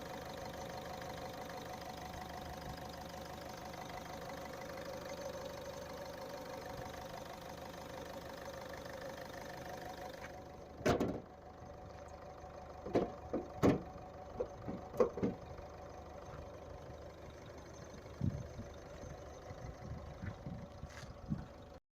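A 2013 Ford Figo car engine idles steadily for about ten seconds, followed by a quieter stretch broken by several sharp clicks and knocks nearby.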